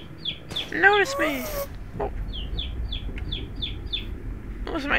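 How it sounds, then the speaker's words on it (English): Backyard chickens squawk and cluck loudly in the background, with a burst of harsh calls early on and then a string of short, evenly spaced high clucks. A voice speaks briefly near the start. "Those are my chickens getting really loud in the background."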